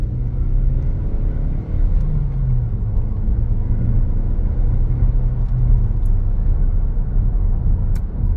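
A petrol Toyota Auris accelerating on a national speed limit road, heard from inside the cabin as a low, steady engine drone with rising tone and road rumble and no talking.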